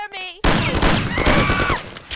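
Rapid, loud bursts of gunfire erupt in a Mafia 1 video game shootout, a sustained volley of shots that starts abruptly after a brief quiet moment and continues densely to the end.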